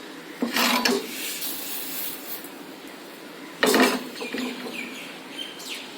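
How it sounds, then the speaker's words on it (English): Roasted urad dal being scraped out of a pan, heard as two distinct raspy scraping strokes a few seconds apart, each followed by lighter rustling of the dry grains against the metal. "Now time for us to remove this from the pan"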